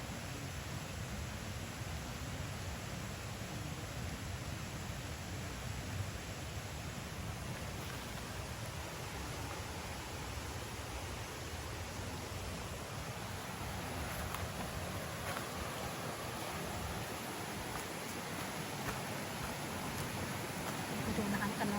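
Steady rain falls in a forest, a dense continuous hiss that stays even and close throughout with no breaks.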